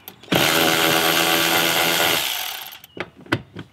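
A power tool, likely a drill or impact driver, runs loud and steady for about two seconds, then winds down while backing out 10mm bolts from a car's accelerator pedal, followed by a few short clicks and knocks.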